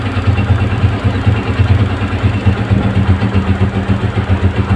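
A motorcycle engine idles after CDI unit and petrol adjustment, with a loud, close, steady low thrum that pulses evenly throughout and no voices.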